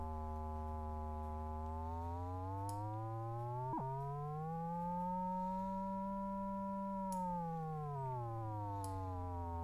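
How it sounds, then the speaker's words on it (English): Arturia ARP 2600-V software synthesizer tone with rich harmonics, its VCO pitch gliding slowly up and down against a background sine wave, a smooth continuous siren-like sweep with a brief click partway through. "we're going to get the VCO1 trying to do something very extreme high, very extreme low, very extreme high, very extreme low against the sine wave"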